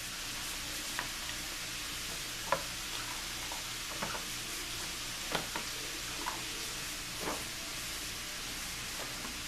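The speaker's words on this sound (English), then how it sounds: "And we're going to give it another stir." Stuffed bell pepper filling stirred in a pan, a faint background sizzle punctuated by a few soft scraping and clinking strokes of a utensil at irregular intervals, with no talking.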